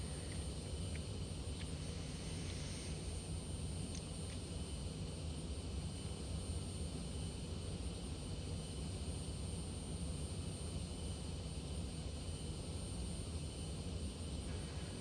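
Cockpit drone of a Cirrus Vision Jet in the X-Plane 11 flight simulator, a steady, fairly faint jet engine hum and whine that holds throughout, with a few brief clicks and no talking.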